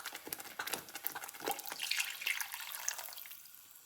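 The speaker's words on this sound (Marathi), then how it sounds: "आता याच्यामध्ये आपण पाणी ॲड करूया." Water is poured into sautéed fish curry masala in a pan, a continuous splashing, gurgling trickle with small bubbly spatters, close and fairly loud, with no voices.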